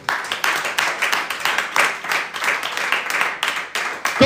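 A church congregation claps and cheers in praise during a service, steady rhythmic applause mixed with voices acclaiming, loud and sustained throughout.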